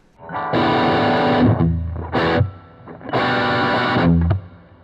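Electric guitar through the Crabtree tone print with a touch of reverb, two loud distorted strummed chords each followed by a short stab, the tail fading quickly.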